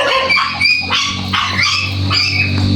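Several dogs bark and yip repeatedly at close range, overlapping in quick, excited bursts throughout.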